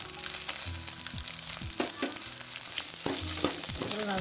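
Garlic and chillies sautéing in a pan, a loud, constant hiss of frying with repeated scraping and clinking of a spatula against the pan, no talking.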